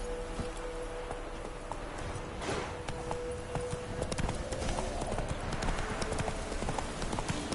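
Geralt's horse Roach runs in The Witcher III on PS5, a steady rapid clip-clop of hooves that continues throughout over a soft background wash.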